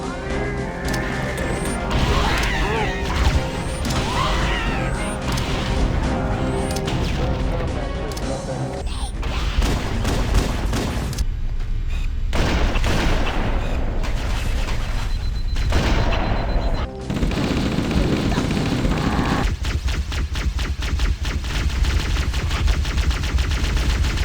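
Weapon fire in a Halo: Combat Evolved firefight, repeated loud bursts of automatic gunfire with crashes and mechanical clanks, dense and continuous with a faint voice in places.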